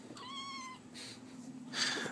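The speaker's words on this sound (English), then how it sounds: "Anyway, here's my cat." A pet cat gives a clear, close meow, followed by a couple of shorter, fainter mews in a quiet room.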